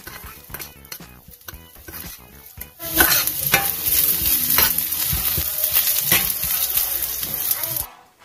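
Onion fries in mustard oil with pancha phutana spices, first with scattered clinks of a utensil against the pan, then a bright, loud sizzle that swells and holds as it is stirred, punctuated by scraping taps.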